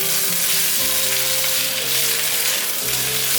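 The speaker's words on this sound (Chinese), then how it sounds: "姜丝炒香后，放入丝瓜，" Luffa gourd and shredded ginger stir-frying in hot oil, a loud steady sizzle filling the pan with a low hum underneath, continuous throughout without pauses.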